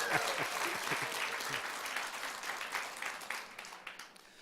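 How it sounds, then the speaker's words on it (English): A crowd at a Chicago business conference breaks into applause and cheering, dense clapping that starts strong and gradually thins toward the end. "let's give a big round of applause and a cheer for products"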